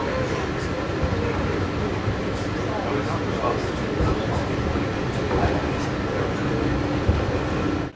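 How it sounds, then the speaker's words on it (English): A tram rolls through Magic Kingdom at Walt Disney World with a steady, continuous mechanical rumble. Crowd chatter and nearby voices run over it throughout. "Is that our tram coming?"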